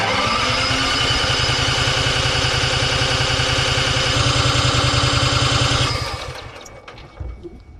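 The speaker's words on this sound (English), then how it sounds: "Hey, the starter moves." The starter motor of an abandoned Barth luxury motor home cranks steadily and loudly for about six seconds in a fast, even chugging rhythm without the engine catching, then stops, leaving faint clicks.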